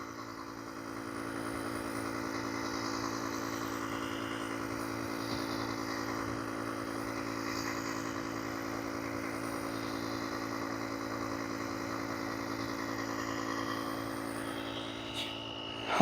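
A portable air compressor and jump starter inflates a tyre with a steady, faint buzzing motor drone that runs evenly and cuts off at the very end.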